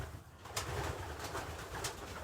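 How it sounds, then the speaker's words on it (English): A very young racing pigeon at a pioneer race loft making soft squeaky calls close by, several brief peeps over a steady muffled background. "Still very young, still squeaking. This pigeon's very young."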